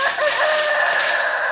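Backyard chickens clucking and a rooster crowing, close and loud, with a continuous bright, insect-like high drone running through the short stretch.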